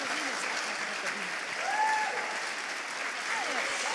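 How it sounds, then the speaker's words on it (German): Steady, dense audience applause after a speech at a German awards show, a broad wash of clapping from a large crowd, with faint voices underneath. "Absolut verdienter Applaus"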